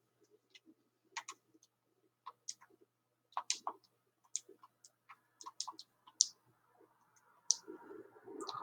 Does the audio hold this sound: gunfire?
no